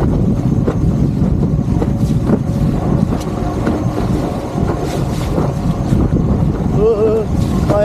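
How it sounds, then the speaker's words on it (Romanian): Strong wind buffets the microphone with a constant low roar, mixed with engine-like rumble over water and brief faint voices. "Bate și vântul din față!"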